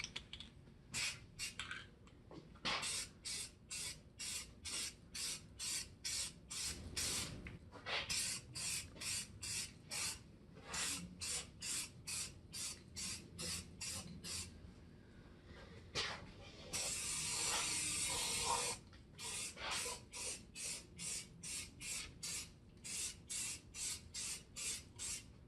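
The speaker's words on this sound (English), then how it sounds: "So I'm going to go ahead and start spraying this though." Aerosol can spraying Plasti Dip coating over a corroded rear window area on a Chevy S10 Blazer: dozens of short, rapid hissing bursts in a steady rhythm, broken by one longer continuous spray near the end.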